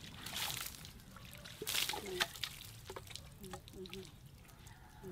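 Cold water from a backyard well splashing and trickling during a quick shower, soft pours and drips heard close, with a voice speaking over it.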